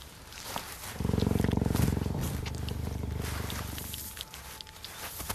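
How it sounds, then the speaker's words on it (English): A cheetah mother hidden with tiny ten-day-old cubs gives a steady rhythmic purr, close and moderately loud, running for several seconds amid faint outdoor rustling. "A cheetah mom hiding away with her tiny cubs."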